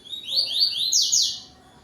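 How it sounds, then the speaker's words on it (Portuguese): A yellow-billed coleiro songbird sings close by at dusk, a quick run of bright, high, descending whistled notes repeated in a short phrase before trailing off into quiet. "Ele dá um cante tui-tui bonito, de vez em quando ele dá uma campainha."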